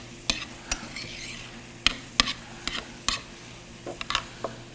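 Minced garlic goes into a pan for a chicken and broccoli stir fry, with sharp, close clinks and scrapes of a stirring utensil coming in an uneven rhythm over a faint, steady sizzle.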